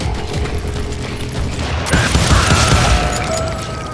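Sustained gunfire in the Call of Juarez Gunslinger video game, a dense continuous barrage of shots with a heavy boom near the middle, loud and close with no talking.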